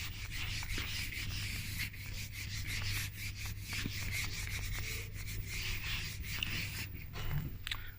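An eraser rubs on paper in a classroom mock exam, repeated scrubbing strokes in quick succession over a steady low hum, close and moderately loud.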